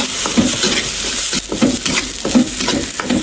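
Eggplant and minced meat are stir-fried in a pan, with a loud, close sizzle broken by rhythmic spatula scrapes and stirs every half second or so, and no voices.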